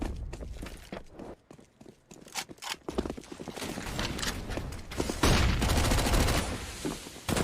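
Gunfire in the video game CS:GO, bursts of rifle shots crackling through a busy match with rapid rhythmic rounds, loud and dense, mixed with footsteps and game effects and no voice over it.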